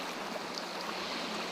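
A small mountain stream in Serra da Canastra, Minas Gerais, flows with a steady, soft, broadband rushing and light gurgling, continuous and even, with no voices.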